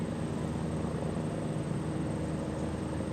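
Aircraft landing at an airshow, a steady broadband engine and propeller roar heard at moderate distance, continuous and even without breaks or talk.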